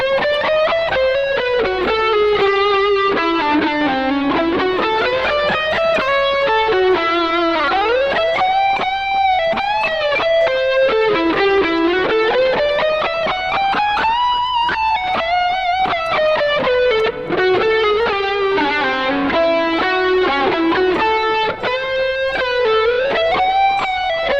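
A continuous distorted electric guitar sliding smoothly between CAGED-system G-shape chord shapes, the pitch rising and falling in long sweeping waves, loud and sustained throughout.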